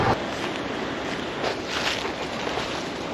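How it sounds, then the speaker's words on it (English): A strong gale blows across a cycle-touring camp spot in Xinjiang, a loud, steady rushing roar with gusty buffeting against the microphone, alone and unbroken. "Now the wind's completely changed direction. It's blowing a gale"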